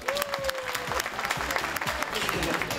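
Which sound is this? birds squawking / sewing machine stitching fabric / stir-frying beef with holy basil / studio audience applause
studio audience applause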